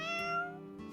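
A short video-game meow directed at a lucky cat statue, with a clear, harmonic, drawn-out cry that bends slightly downward before fading, then a soft second onset near the end.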